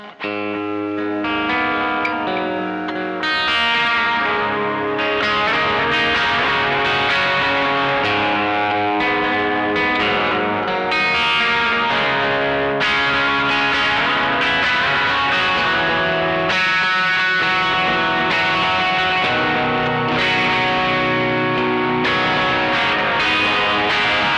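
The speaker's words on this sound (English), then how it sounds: "get a cool, like, expressive, verby lead tone, and then again you can add the delay into that as well" An electric guitar through Caline pedals plays an expressive lead melody, washed in reverb and analog-style echoing delay, sustained and loud throughout with a thick, atmospheric tail.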